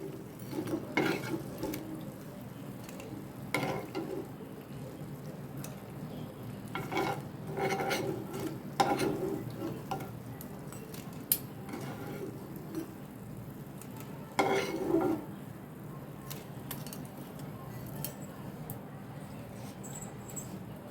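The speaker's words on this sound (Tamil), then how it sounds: "நம்மளோட பிரெட் பீசஸை நல்லா எண்ணெயில் போட்டு பொரிச்சு எடுத்தாச்சுங்க" Bread pieces frying in oil and being stirred, with a soft steady sizzle broken by repeated scraping and clinking stirs at irregular intervals, fairly close and moderately quiet.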